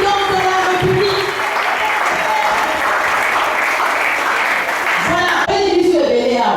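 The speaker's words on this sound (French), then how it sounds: "Applaudissons encore une fois parce que nous sommes derrière le président de la République." A crowd at a political gathering gives sustained, loud applause that fades out near the end as a person begins speaking.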